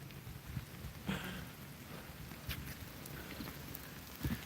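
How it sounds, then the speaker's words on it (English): Gentle rain falling outdoors, a faint, even patter with a few soft louder drops scattered through it and no voices. "relax and walk in the rain together."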